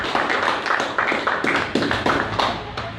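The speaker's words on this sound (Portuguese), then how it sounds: "Vamos dar uma salva de palmas bem forte" Church congregation clapping for the Lord during a Portuguese-language worship service, a close burst of many hands beating in a steady, rhythmic pulse that carries on throughout.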